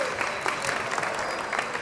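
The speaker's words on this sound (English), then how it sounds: "Thank you for clapping." Audience applause at a Saturday morning conference plenary session: dense, steady clapping from a large crowd that fills the whole stretch, close and even in loudness.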